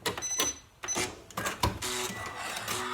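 Sewing machine stitching over bulky felt seams of a felt-lined fabric storage caddy, a loud, steady mechanical whirr with brief stops and restarts and a few clicks, close to the microphone.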